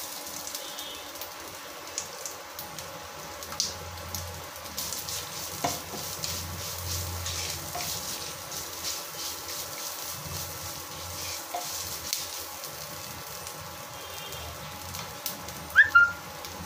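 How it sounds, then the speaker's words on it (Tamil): Grated coconut roasting in a pan for chicken gravy, a soft continuous sizzle with occasional stirring scrapes, low and steady throughout, no talking. "நல்லா தேங்காய் நல்லா செம்பருமா நல்லா செவந்து வர்ற வரைக்கும் வறுத்துக்கலாம்"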